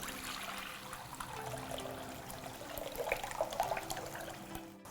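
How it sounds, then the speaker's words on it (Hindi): Water trickles and splashes as it is strained off soaked rice in a kitchen, a continuous gentle pouring with small bubbling spurts, close and fairly quiet. "तब तक चावलों का पानी हम छान लेते हैं"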